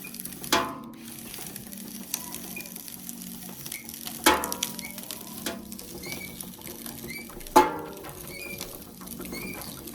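A hand-cranked juicer presses sugarcane stalks, giving three sharp crunching squeezes spaced a few seconds apart over a steady low grinding and creaking of the mechanism, close and fairly quiet.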